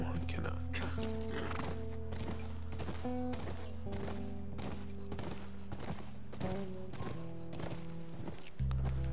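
Horse hooves clip-clop rhythmically with a whinny in The Last of Us, amid game sound effects and music tones, with talking alongside.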